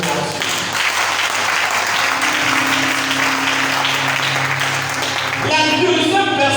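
A church congregation bursts into sustained applause, a dense, steady wash of clapping that runs throughout and swells a little louder near the end, with faint voices and a held musical tone mixed underneath.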